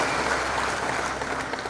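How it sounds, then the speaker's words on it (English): Applause from an assembled crowd greets Dr. Madziwadika, SRC chairman, at a formal presidential launch of the Munhumutapa Challenge Cup. The clapping is dense and steady, a continuous wash of many hands with no voices over it. "A round of applause for Dr. Madziwadika as he comes"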